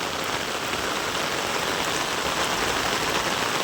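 Steady downpour over farmland in Sangrur, Punjab: a thick, constant wash of raindrops striking the ground, close and continuous, with nobody speaking.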